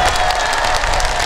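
Festival crowd at the 20th Eumseong Pumba Festival in 2019 applauds a pumba street-entertainer's show with dense, steady, loud clapping that fills the whole moment, a few scattered cheers mixed in.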